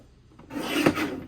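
A paper trimmer blade slices through a sheet of metallic silver paper in one quick, rasping scrape that builds and fades within about a second, close and fairly quiet.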